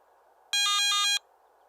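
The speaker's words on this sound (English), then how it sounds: "a brief audio alarm will sound every 60 seconds" A single brief electronic beep from a Garrett ATX metal detector's low-battery alarm sounds, a bright buzzy tone lasting about half a second, repeated in a quick warble, against near silence.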